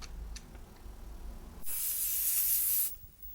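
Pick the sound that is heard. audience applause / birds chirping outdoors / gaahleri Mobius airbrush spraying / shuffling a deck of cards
gaahleri Mobius airbrush spraying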